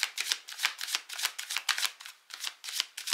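Angel oracle cards riffle and slide in a steady rapid shuffle, a run of close, crisp papery bursts with brief gaps between them and no voice over the top.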